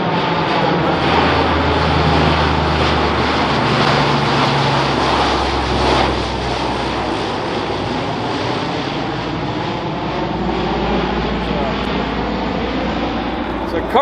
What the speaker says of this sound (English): cargo plane for the most part, but they also fly them that are gunships